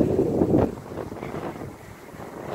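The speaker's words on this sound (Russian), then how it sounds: "Такая вот метель метет." Strong blizzard wind gusting against a car driving along the M4 highway in winter, a steady loud roar with a heavier surge early on, then a continuous rushing drone with no talk.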